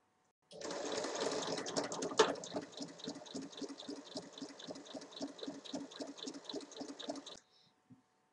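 Sewing machine stitching a 62 cm fabric band seam, a fast, steady mechanical whir with rapid needle pulses running about seven seconds, then stopping, close and alone.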